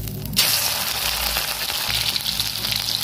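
A paste of ginger, garlic, onion and green chilli hits hot mustard oil and sizzles loudly at once, a steady dense crackle that carries on without a break.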